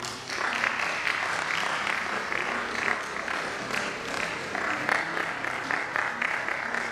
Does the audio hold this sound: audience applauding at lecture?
yes